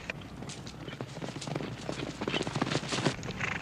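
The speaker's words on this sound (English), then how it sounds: "Get these horses moving!" Several horses' hooves clip-clop in a quick, busy run across a 1959 Western scene, with scattered shouts and voices over the steady clatter.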